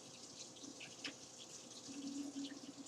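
Hot water runs steadily from a tap into a sink, a continuous close hiss and splash with faint dribbling changes, alone without voices.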